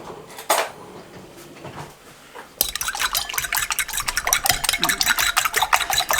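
Salted raw eggs are beaten in a bowl, starting with a few light taps and then a sudden, brisk, continuous clatter of a utensil whisking against the bowl, close and fairly loud.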